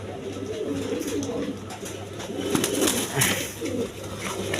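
Large red pigeons in a loft coo in low, overlapping calls, with a steady crowd of birds murmuring close by and faint movement in the background.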